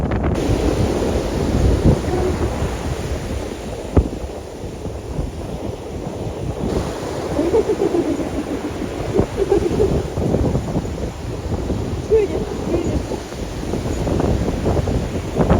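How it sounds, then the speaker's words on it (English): Strong wind blows across a beach at Lookout Cay at Lighthouse Point, a loud continuous roar buffeting the microphone with rumbling gusts and possible surf underneath throughout. "You can tell the wind is winding."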